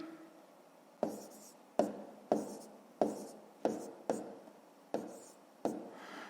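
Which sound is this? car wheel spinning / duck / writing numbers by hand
writing numbers by hand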